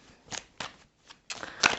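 A few quick papery riffles and flicks of playing cards being shuffled by hand, close and brief, in four or five short bursts.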